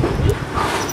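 Dogs at a farm training site in Uganda give a brief burst of whimpers and yips, close by and tangled with people talking.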